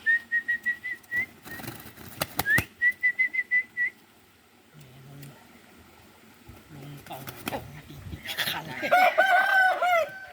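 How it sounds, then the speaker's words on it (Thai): A rooster crows near the end, after scattered clucks, clatter and a sustained whistled tone. "ไก่พ่อให้มาเนี่ย"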